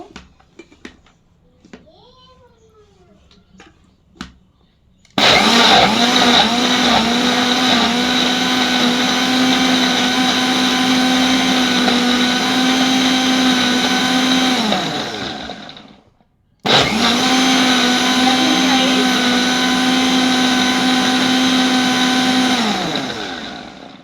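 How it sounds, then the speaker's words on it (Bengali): A blender running close and loud, whirring out bael fruit juice in two long bursts with a brief pause between, after a few faint clinks and a short stretch of quieter sound. "এখন আমি এটাকে ব্লেন্ড করে নেব।"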